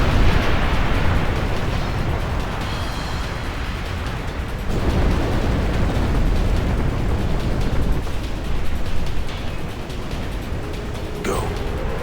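A building collapses in an explosion in the Final Fantasy X HD Remaster video game: a loud, continuous roaring rumble with surging crashes runs for the whole stretch, with talking woven through it.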